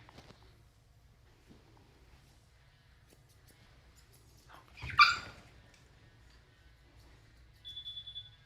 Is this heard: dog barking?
yes